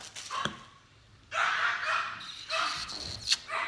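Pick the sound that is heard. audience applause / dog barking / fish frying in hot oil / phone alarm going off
dog barking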